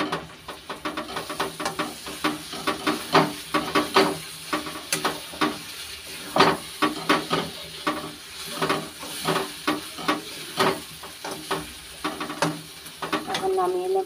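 Pre-fried onions tipped into a hot pan of spiced filling, giving a steady sizzle under rhythmic scraping and stirring strokes, with someone speaking Bengali faintly at times.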